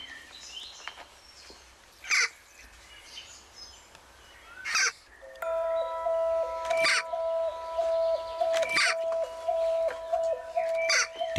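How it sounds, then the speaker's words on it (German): Recorded male jackdaw calls play from a loudspeaker hidden in a box: sharp, scattered calls repeat every couple of seconds, and a steady electronic tone joins them partway through. "Anschließend spielt sie daraus einer Dohle die Rufe ihres Männchens vor."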